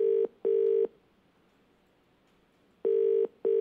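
Two pairs of steady electronic tones sound with a quiet gap between them, an even, repeating telephone ringback pattern.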